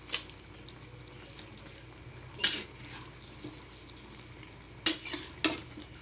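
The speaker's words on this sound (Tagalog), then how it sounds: "Ayan, haluin natin guys." Utensil stirring carrots and potatoes in a frying pan while cooking pastil, with a few sharp scraping clinks against the pan standing out over a quiet, steady kitchen background.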